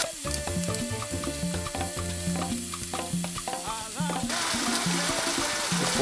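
Red chili pepper and tomato go into a frying pan alongside pre-boiled chicken thighs and sizzle with a steady crackling hiss that grows brighter near the end, over background music.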